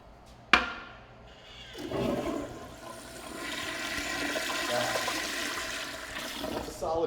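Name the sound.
quiet flush toilet flushing in restroom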